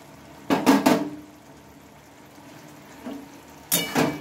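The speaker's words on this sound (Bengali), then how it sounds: "ছেঁড়া ছেঁড়া যে ডিম ভাজাটা আমি তৈরি করে নিয়েছি সেটা এখন এর ওপর দিয়ে নেব" Torn pieces of fried egg drop into a pot of simmering spiced gravy, giving two short bursts of clatter and soft splatter close by, with a faint bump between them and quiet pauses.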